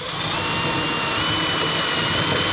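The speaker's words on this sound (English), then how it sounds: "You just only want to drill through the first panel." A power drill whines steadily at close range, a continuous high-pitched grinding as the bit bores through a Jeep's metal fender panel, with no talking.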